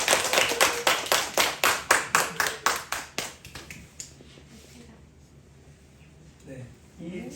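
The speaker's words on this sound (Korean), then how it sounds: "박수 한번" An audience at a poetry and arts event claps in a strong, even rhythm of about a dozen sharp beats, then fades into quiet murmuring with a voice speaking.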